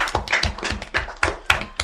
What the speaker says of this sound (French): On applaudit pour Flora.